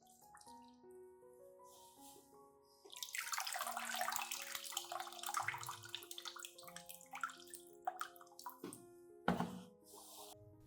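Water is poured onto an orchid's growing medium, a steady splashing stream that starts a few seconds in and continues with small drips and gurgles, close by, over soft background music.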